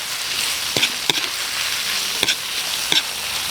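Intestine stir-fried with mixed vegetables in a pan, a constant loud close sizzle broken by a few sharp scrapes and knocks of a spatula.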